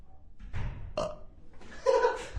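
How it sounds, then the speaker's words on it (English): A few loud, gurgling burps in quick succession, close up, with short pauses between them and no talking. "We've got two burps sound effects."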